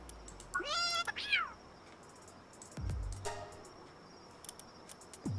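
Cats in Palworld let out several close, rising and falling meows, with one drawn-out cry in the middle and a few short mews near the end over a quiet hum of insects.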